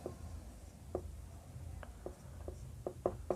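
Chalk or marker strokes on a board while working out a KVL circuit problem for current I1, a few short taps and scratches spaced irregularly, faint against a quiet room with no speech.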